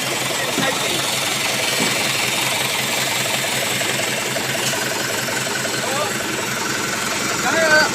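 A small tractor engine with a fault runs steadily throughout, a constant low mechanical drone with faint voices underneath.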